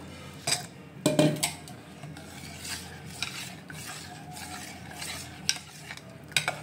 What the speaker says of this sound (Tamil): கலக்கலாம் பாலை.